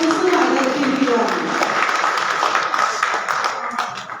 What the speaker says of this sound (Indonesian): kita beri tepuk tangan untuk ketiga pasangan calon yang sudah sangat luar biasa menampilkan visi misi hari ini